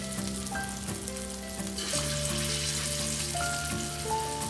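Shark fish sizzles and crackles steadily in hot oil, the frying noise growing louder partway through, with a faint tonal hum underneath.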